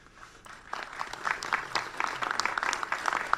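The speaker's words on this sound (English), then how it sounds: "Pause for clap." Audience applause at a speech, a dense patter of many hands clapping that swells from soft to steady and fairly loud, heard alone without talk.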